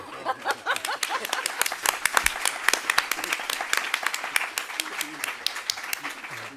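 Audience applause at a round-table discussion on bookbinding training, a dense patter of many hands clapping at a moderate distance that sustains throughout with sharp individual claps standing out.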